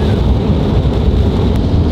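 A thunderstorm outdoors, with a steady dense roar of heavy rain and a low rumbling wash underneath, loud and continuous.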